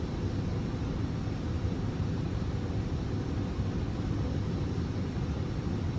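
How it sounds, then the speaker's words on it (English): An Airbus A321's engines hum as thrust builds during descent in Microsoft Flight Simulator 2024, a steady low roar with broadband hiss that holds even and faint throughout, with no voices. "you can hear the engine starting to rev up a bit."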